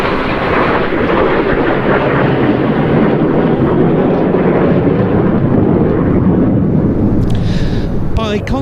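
A Saab Gripen jet fighter roars loudly overhead during an eight-point hesitation roll at an air show, a sustained thunderous engine rumble with someone commentating over a public address.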